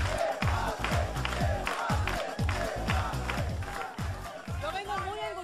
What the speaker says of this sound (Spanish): Un aplauso para Esperanza.